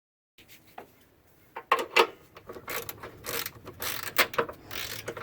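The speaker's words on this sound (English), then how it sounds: "I use a 10mm with a few extensions to reach that lower nut." A 10mm socket ratchet with extensions turning a nut on a Saturn Ion coolant reservoir, giving a close series of rapid ratcheting clicks and metallic clatters after a brief silent start.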